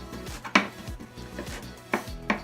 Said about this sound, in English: So here is my chopped ginger.